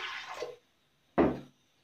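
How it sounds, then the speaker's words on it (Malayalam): Water poured into a pressure cooker holding fenugreek seeds, heard as two short splashing pours separated by a brief pause, close and fairly quiet, with no talk. "ഇത് മുങ്ങിക്കിടക്കാൻ പാകത്തിന് വെള്ളം ഒഴിച്ചു കൊടുക്കാം."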